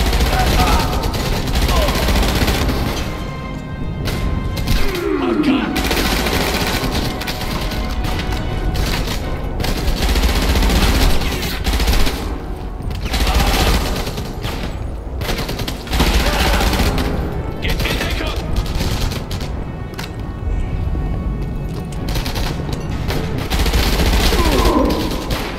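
Sustained gunfire in the WWII shooter Enemy Front, loud continuous automatic bursts and booms through the whole stretch, with a voice talking briefly underneath.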